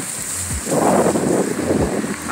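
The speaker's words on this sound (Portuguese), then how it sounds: "Um pouquinho de chuva aqui" Light rain falling outdoors in Salvador beside a flatbed tow truck carrying an electric BRT bus, a steady broadband hiss that swells in the middle, with faint low rumbles from nearby traffic.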